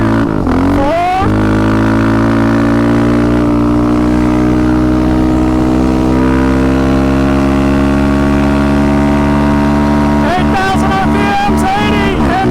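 A Big 5 Raptor engine accelerates hard through first to fourth gear. The roar is loud, close and distorted, with pitch climbing at the start and again near the end and a long strained drone between.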